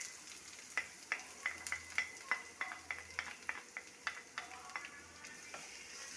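Chopped onion and curry leaves sizzling in a pan, with a steady run of sharp stirring clicks and scrapes from a spoon over a soft frying hiss, close and fairly quiet.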